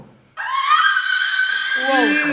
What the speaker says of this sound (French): Ça crie gros, c'est quoi?